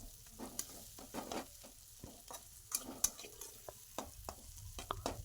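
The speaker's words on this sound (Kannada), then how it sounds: "ಹಾಗೆ ಫ್ರೈ ಮಾಡಬೇಕು." Egg bhurji frying on a low stove, with intermittent scraping stirs of a spatula in the pan over a faint, quiet sizzle, heard close and without voices.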